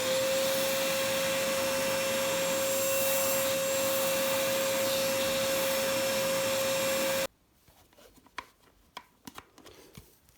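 A Hoover H-Free C300+ cordless stick vacuum with its motor at the floor head runs loud and close at full power with eco mode off, a steady high whine that cuts off abruptly, followed by quiet handling clicks.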